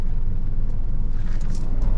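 Steady low engine rumble and road noise from inside a 2-ton truck cruising along the Kamine bypass, continuous and even throughout, with no voices.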